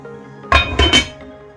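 A metal lid set down onto a pot of lamb stew, giving three close, bright clanks in quick succession before a faint ringing fades out.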